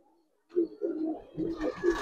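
A Giribaz pigeon gives several low, close coos in a short run after a brief silence, the calls rising and falling without pause.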